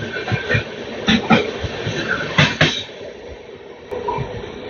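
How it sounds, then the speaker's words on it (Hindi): A Shivganga Superfast Express passes on a parallel track during an AC special run from Sheikhpura to Anand Vihar, a steady rumble of rolling wheels with rhythmic clatter bursts from the moving carriages, fairly close. "ये भाई साहब निकल गई अपनी शिवगंगा सुपरफास्ट एक्सप्रेस पैरेलल में ओवरटेक मार के"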